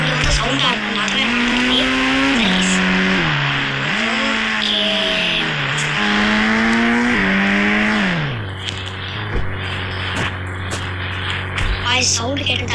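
Vehicle engine droning loud and close, its pitch rising and falling through repeated revs before settling into a steady idle-like hum, with some background voices.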